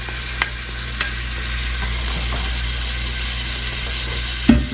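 Sausage and vegetables sizzle steadily in a hot pan while a utensil stirs and scrapes through them, with occasional clinks.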